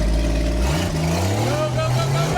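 Jeep on a wet off-road trail incline, its engine revving and rising in pitch as it pushes forward, close and loud, with voices talking over it.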